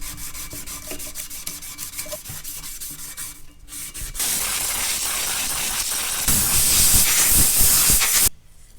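Emery cloth is scrubbed hard against a Ford 9-inch rear axle shaft during bearing prep, making a continuous rasping, hissing friction that grows louder and harsher partway through before cutting off abruptly near the end. The rubbing is close, with no voices.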